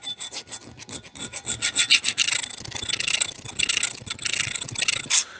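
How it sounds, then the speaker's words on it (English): A hand file rasps against a metal part being shaped to fit over a shaft, close and loud, with rapid rhythmic back-and-forth strokes and no talk. "So we're going to take a wee bit more off with this file here."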